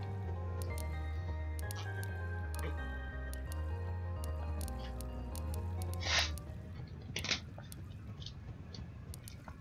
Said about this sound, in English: let me take a drink of water real quick